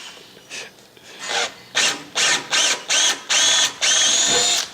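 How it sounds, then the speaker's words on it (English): A drill bores a hole in metal while fixing an engine access latch on a John Deere 240 skid steer, working in about six loud, rasping bursts of roughly half a second each, growing steadier and longer toward the end. "Now that's the way to drill a hole."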